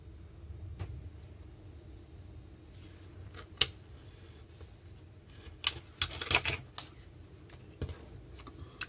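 A die-cutting machine presses through a sheet of paper, giving faint irregular clicks and sharp snaps, with a brief cluster of crunching cuts in the middle against a quiet background.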